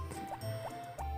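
Crops are watered in the farming game Harvest Moon Back to Nature, giving short repeating drippy splashes of liquid, roughly three in quick succession over a low steady background tone.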